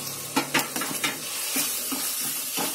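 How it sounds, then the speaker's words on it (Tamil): Tomatoes sauté in a pan for an egg gravy, giving a steady close sizzle with a few scraping stirs of a spatula against the pan near the start, and no talking. "நல்லா வதங்கணும் தக்காளி."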